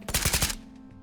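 Video-game gunfire firing AP rounds in Tarkov: a quick burst of about five close, loud rapid shots with a short ringing tail, no talk.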